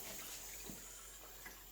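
Cooling water flows out of a wort chiller during home brewing of a Maris Otter and Cascade beer, a faint steady trickling stream with small splashes, quiet and close, no voices.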